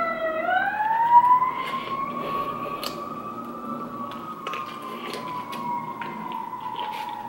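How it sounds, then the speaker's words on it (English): A wailing emergency siren sweeps upward and then holds a steady, slowly falling tone. It sounds fairly close and carries on without any talking. "Sirens."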